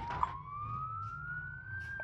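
A police siren wails steadily from a pursuing cop car in the BeamNG Drive driving game, a continuous rising tone over low engine rumble, close behind and fairly loud.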